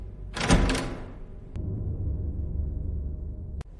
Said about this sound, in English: The door clicks shut behind me.